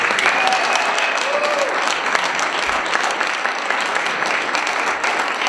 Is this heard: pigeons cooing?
no